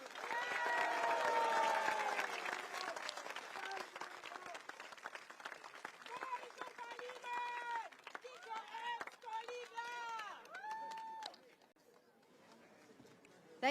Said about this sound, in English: One more round of applause for Dr. Tan.